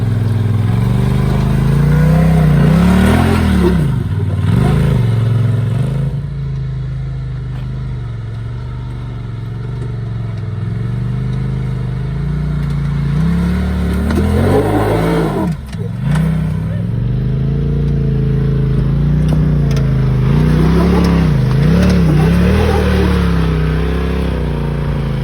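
A 2,000-pound SSS Off-Road RZR UTV grinds and bashes over rock at Sand Hollow, its mid-pitched engine loud and close, revving and surging in waves with clattering knocks from the underside as it crawls.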